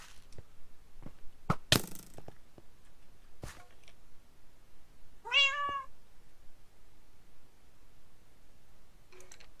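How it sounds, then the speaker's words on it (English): A cat in a Minecraft mod pack video game gives a single clear, rising-and-falling meow midway, set among sharp scattered clicks and cracks of gameplay over a quiet background. "Oh, hi, kitty."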